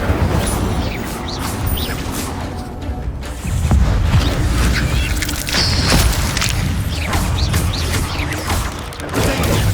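Booming fire-spell blasts and crackling bursts ring out repeatedly in the Hogwarts Legacy game, with heavy low rumbles and crashing impacts sounding loud and close.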